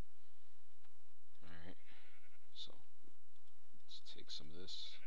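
Two short Minecraft sheep bleats sound faintly among scattered clicks and soft electronic chirps.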